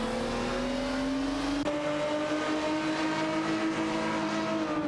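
Race cars howling around a track in an AI racing video game, engine tones climbing steadily with a sharp gear shift midway, loud and continuous with no talk.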